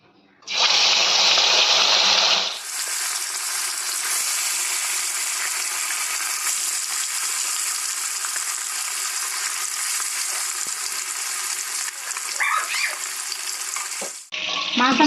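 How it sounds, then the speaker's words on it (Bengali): Kalbos fish pieces frying in hot oil, a loud steady hiss that bursts in abruptly and holds continuously at close range, with a few crackles and brief shifts near the end. "তেল আমাদের গরম হয়ে গেছে, এবার একে একে আমরা মাছগুলো ভেজে নেব।"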